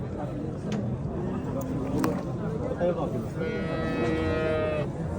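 Cattle low and moo amid the crowded bustle of the Piskent livestock market, sounding under steady background chatter and noise with a longer, clearer call near the end.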